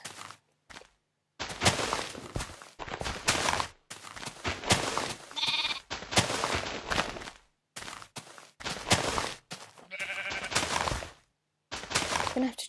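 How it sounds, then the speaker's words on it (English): Sheep bleating in Minecraft PE, several short synthetic bleats spaced out among footsteps and other block-game sounds, with stretches of silence between them. "Nothing around, just a bunch of sheep."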